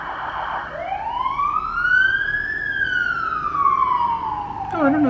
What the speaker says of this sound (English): Oh, siren's coming.